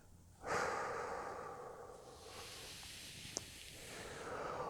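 One long, close exhale pushes out as a breathy rush that slowly fades, then a softer stream of air follows during a calm breathing exercise, with no talking.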